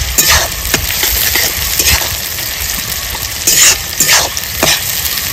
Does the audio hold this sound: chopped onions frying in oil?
yes